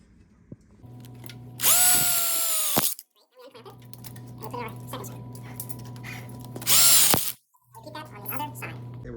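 A power drill driving screws into steel tubing for an outdoor kitchen drop-down burner module, two loud close whining bursts that rise and cut off, with a person talking in between and a low steady hum underneath.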